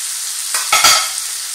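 Meat stuffing with fresh mint and parsley fries in a pan as it is stirred, a close hissing sizzle with a couple of quick scraping stirs in a short burst.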